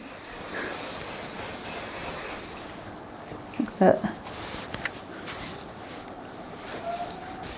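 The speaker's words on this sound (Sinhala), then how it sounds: "හෙයාර් ස්ප්‍රේ එක ගහන්න ඕනේ." A hair spray can released in a short steady hiss over a bride's hair during Kandyan bridal styling, loud and close, followed by a quieter room with faint knocks and handling noises.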